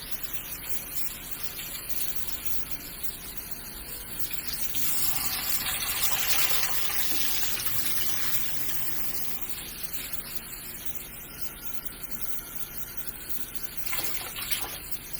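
Tap water runs steadily as seamoss is rinsed, with a continuous splashing gush that swells in the middle as the stream hits the moss and quieter trickling toward the end.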